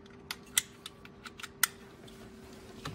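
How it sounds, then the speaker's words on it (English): Electrical connectors on a 2010-2015 Lexus RX350 or RX450h instrument panel snap into place with a series of crisp, close plastic clicks, some louder than others, over a faint steady hum and no talking. "Reconnect all these connectors here. Plug them in until they click."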